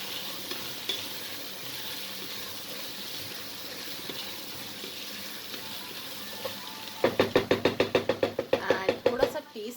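Mixed vegetables with turmeric and salt in a pan, a faint sizzle for several seconds before a burst of rhythmic stirring strokes, a quick series of loud knocking scrapes of a spoon against the pan near the end.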